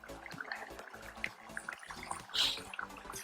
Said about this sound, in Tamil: அதில் கொஞ்சமாக தண்ணி விட்டு